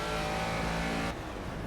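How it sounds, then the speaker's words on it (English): A Caterham Seven engine in the racing game Project CARS on the Nordschleife, revving loud and close with a steady buzzing drone, then the pitch drops abruptly at a gear change. "Oh, I love the way it revs."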